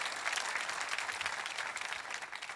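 A church congregation applauds during a sermon, a steady, even wash of many hands clapping at moderate volume with no break.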